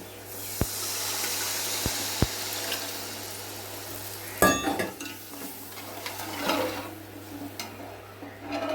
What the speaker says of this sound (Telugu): చింతపండు పులుసు, కేజీ చేపలు ఈ పులుసు పోస్తున్నాను